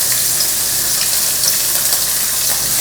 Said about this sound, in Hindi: अब मैं इसमें अदरक लहसुन शामिल करूँगी कुटा हुआ